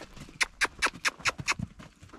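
Horses' hooves clip-clop at a walk as the animals are led down to another area, a string of about nine evenly spaced, crisp hoof strikes heard close by with no talking.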